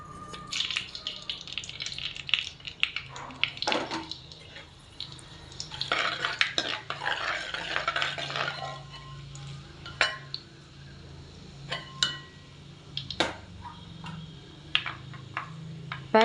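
Fenugreek seeds hit hot oil in a clay pot, giving a brief hissing sizzle amid scattered metallic clinks and scrapes of a spoon stirring against the pot.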